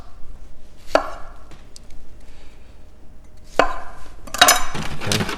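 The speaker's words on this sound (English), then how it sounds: "just cut up any larger pieces" Knife chopping raw salad ingredients for a green goddess salad on a board, a few sharp isolated chops followed by a quicker cluster of cuts, close and crisp with no talking.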